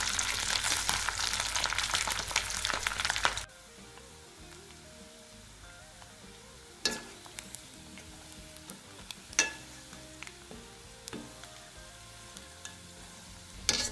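Chicken pieces deep frying in hot oil, a loud dense sizzle at first that drops to a quieter steady bubbling, broken by occasional clinks and scrapes of stirring.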